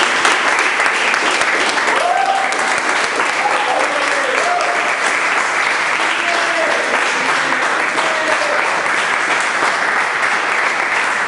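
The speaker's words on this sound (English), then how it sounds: "So I want to give a round of applause." Sustained audience applause at a farewell event for English literature students, loud and continuous for about eleven seconds, with a few voices faintly audible beneath the clapping.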